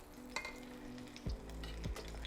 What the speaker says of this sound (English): we're gonna cook it on the first side for 1 minute